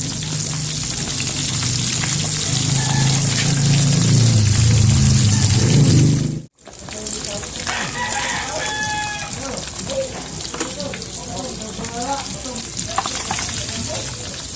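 Fish frying in a pan at a rural provincial home gives a loud, continuous sizzle that briefly cuts out, then returns with a rooster crowing nearby.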